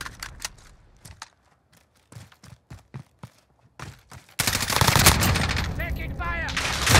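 Video game gunfire in a Call of Duty match: a string of sharp separate shots, then a loud sustained burst of firing and explosions that fills the end, with faint radio chatter.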